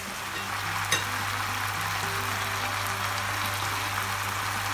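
Pea greens go into a pan with tengra fish and give a steady, close frying sizzle, with one brief clatter near the start and a constant low hum underneath.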